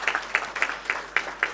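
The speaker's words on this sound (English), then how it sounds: "I would like to ask you to please applaud for the panel" Audience clapping for a panel at a high-level policy event on care systems, a short burst of scattered handclaps with a steady uneven rhythm, moderately close, with no talk over it.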